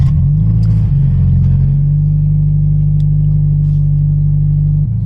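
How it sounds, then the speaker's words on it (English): A Subaru BRZ engine fires up close by: a loud low rumble that catches and settles into a steady idle, droning evenly before dropping slightly at the end. "Let's go ahead and try to start the car"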